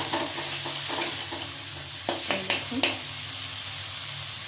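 Egg curry masala with turmeric frying in oil, a steady close sizzle broken by several sharp scrapes and knocks of a spatula stirring the pan, no talking.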